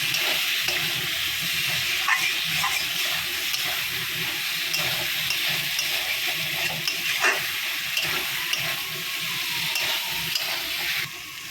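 Boiled potatoes fry in a spiced masala in a hot pan, giving a constant hiss and sizzle. Occasional scraping stir strokes sound close up for the whole stretch, with no talking.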